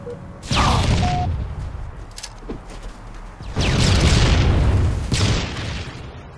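Booming grenade explosions in a multiplayer video game, several loud deep blasts a few seconds apart with rumbling tails, heard alone without talk.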